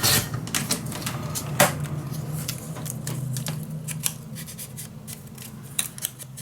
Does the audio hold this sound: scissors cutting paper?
yes